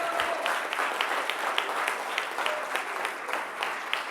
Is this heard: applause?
yes